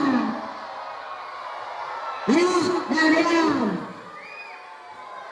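Children shouting and cheering for the girls at an elementary school gathering, a short burst of loud young voices rising over a hall full of chatter, with an adult calling out just before.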